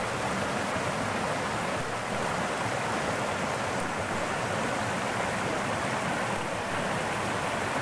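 Fast-flowing river water rushes in a dense, constant roar between Les Six Chénons and Monthermé, close and loud throughout with no pauses and no talk.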